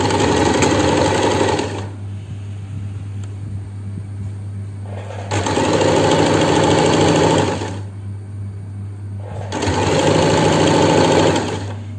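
A sewing machine stitches a churidar nighty in loud, steady bursts of whirring motor and needle noise, three runs of about two seconds each separated by quieter pauses, with no talking.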